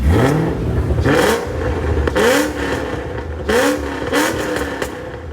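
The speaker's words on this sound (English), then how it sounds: "And I'll give some revs like from the inside." A cammed 2006 Ford Mustang GT engine, heard from inside the car, revs up sharply several times, rising and dropping with each blip over a loud, rough idle.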